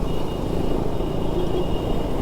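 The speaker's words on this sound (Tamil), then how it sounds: "ஒரே டிராஃபிக்காக இருக்குது." Steady, low road-traffic rumble heard from a KTM Duke 200 motorcycle on a ride from Kodaikanal to Chennai, with a continuous engine and wind drone and no clear individual vehicles.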